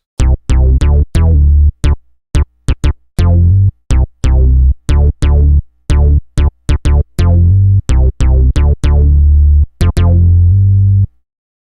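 Punchy, resonant synth bass notes from an Ensoniq TS-10 synthesizer played in a quick, uneven rhythmic pattern, deep and loud with short plucky decays.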